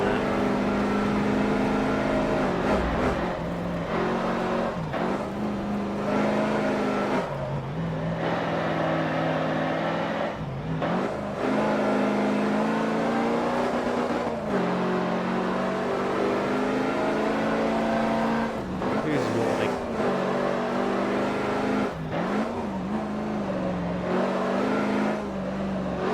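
A heavy car driven in a racing video game, engine droning and revving continuously with gear shifts and dips in pitch, steady and close throughout.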